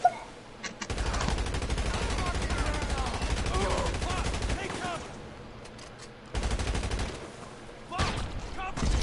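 Sustained automatic gunfire during a gang attack in a roleplay shooter game, dense rapid shots for several seconds, pausing, then resuming in shorter bursts, with a voice talking over it.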